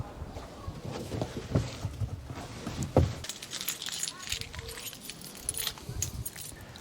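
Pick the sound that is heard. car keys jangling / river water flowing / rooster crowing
car keys jangling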